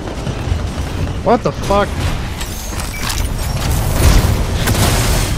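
Heavy booming explosions and gunfire rumble through a match of the shooter game Titanfall 2, loud and continuous, with a player's brief exclamation over the din.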